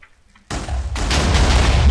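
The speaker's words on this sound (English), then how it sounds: "I just lit some TNT on fire." Lit TNT in Minecraft detonates with a sudden loud blast, followed by a second, heavier roaring explosion that keeps rumbling to the end without fading.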